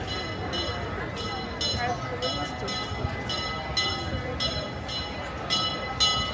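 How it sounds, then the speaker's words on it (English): The Disneyland Railroad train rumbles by at the theme park, its steady rolling noise broken by evenly repeated bright ringing tones, heard at moderate distance amid crowd bustle. "That's the sound of the Disneyland Railroad."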